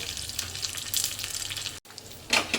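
Curry leaves and white sesame seeds sizzle in a hot tempering for rava dhokla, a loud crackling hiss that drops out for an instant, then flares again.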